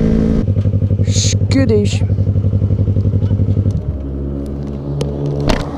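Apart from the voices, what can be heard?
motorcycle riding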